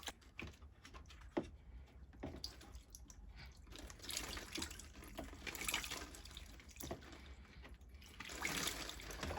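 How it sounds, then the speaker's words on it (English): Water poured and splashing to rinse out parts of an HVLP handheld paint sprayer, a steady wet gurgle and trickle with occasional drips, fairly faint and close. "Throw some water down there."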